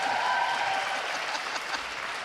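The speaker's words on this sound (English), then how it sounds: "Can I get a round of applause for that?" Applause from the audience at an in-person Ban Righ Foundation Inspiring Women evening at the Isabel, a brief, even stretch of clapping that fades slightly.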